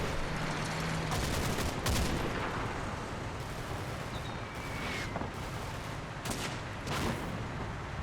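.303 machine gun fire in the wargame Combat Mission, a dense unbroken roar of distant fusillade and battle noise with scattered sharper cracks and booms, no voices.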